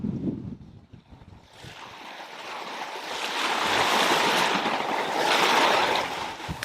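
Sailboat running on the open Atlantic under spinnaker and mainsail, with steady rushing water and wind along the hull swelling louder and then easing, no voices.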